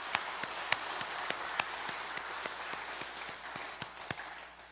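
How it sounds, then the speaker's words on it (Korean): A church congregation gives scattered applause after a sermon: sparse, uneven claps at a modest distance, fairly faint, with no voices. "우리 하나님께 영광과 감사의 박수 드리겠습니다."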